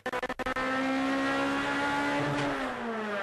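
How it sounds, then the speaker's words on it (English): A touring race car accelerates hard, with a loud, close engine roar climbing in pitch; a few quick stutters at the start lead into a sustained rev and a gear change near the end. "Apex well here, getting the gas early. Third gear."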